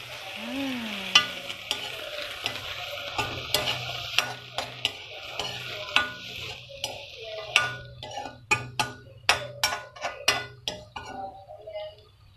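Vegetables stir-fried in a home kitchen pan, with repeated sharp clinks and scrapes of a utensil against the pan over a steady sizzle, close and fairly loud throughout.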